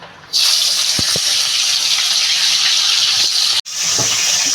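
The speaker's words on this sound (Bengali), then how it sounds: "আমি এই যে শাকটা ধুয়ে নিলাম" Helencha greens are rinsed under a running tap, a loud steady gush of water splashing into a sink, briefly interrupted once before resuming, with faint handling sounds and no speech.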